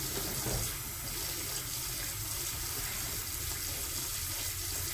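Apples washed under a running kitchen tap, a steady broadband rush of water spilling into the sink for the whole stretch, close and fairly loud with no talking.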